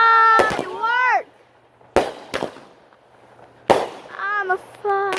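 A small firework goes off under a wire, giving several sharp, loud bangs spaced a second or so apart, mixed with excited voices talking and exclaiming between the blasts.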